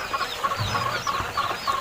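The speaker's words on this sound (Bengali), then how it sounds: "সব ধরনের পাখি আছে এখানে মোরগ কোয়েল পাখি মুরগি কোয়েল পাখি ডিম পাড়া পাখি" Birds at a quail farm call in rapid, repeated short chirps, with several overlapping voices close by against a low farm murmur.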